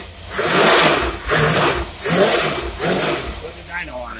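A car engine fitted with its original AFB carburetor revs hard in four repeated bursts, each rising roar dropping back toward idle between blips, loud and close, with no talk over it.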